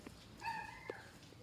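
A dog being walked whimpers briefly, a thin high whine rising over faint outdoor background noise, soft and close.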